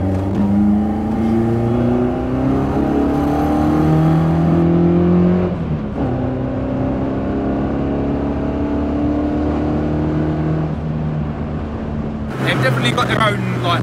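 A Ford Escort engine revs hard and climbs through the gears, its rising drone loud and close, with people talking over the noise.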